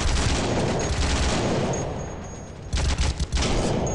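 Gunfire in the World War Heroes shooter game set in the Second World War: dense, heavy volleys of shots fill the first seconds, ease off briefly, then return as loud, sharp close bursts at the end.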